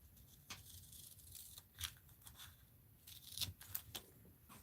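Scissors cut through paper for a mixed-media art journal in a few quiet, uneven snips with soft rustling between them, close by and faint, with no talking.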